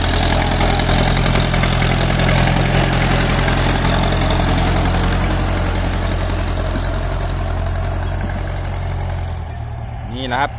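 Ford 6640 tractor with a four-cylinder diesel engine running steadily, a loud continuous low rumble close by, with a speaking voice over it and a brief change near the end.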